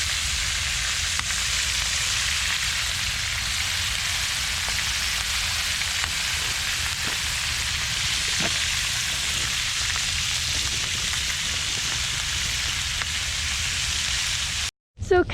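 Meat sizzling on a Santa Maria grill as grease drips off, a dense steady hiss with occasional pops, close and constant, cutting off abruptly near the end.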